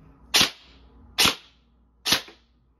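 Three sharp cracks from an AR-style BB gun fired semi-auto, evenly spaced under a second apart, loud and close with short decays and no talk over them.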